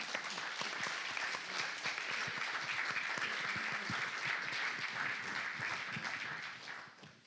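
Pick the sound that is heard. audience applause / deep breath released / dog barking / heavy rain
audience applause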